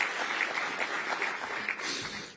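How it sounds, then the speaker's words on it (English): A morning audience at a Pancakes and Politics breakfast event in Detroit applauds, with steady, dense clapping filling the room at an even level throughout. "Give yourself a round of applause."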